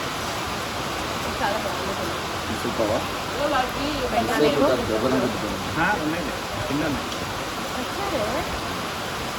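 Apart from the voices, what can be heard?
rain falling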